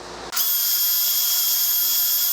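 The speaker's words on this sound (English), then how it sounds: "got a little wire brush on the drill here" A drill fitted with a small wire brush scours out a hole in a 1978 Corvette bellhousing, starting abruptly after a brief lull and holding a steady, loud high-pitched whine throughout.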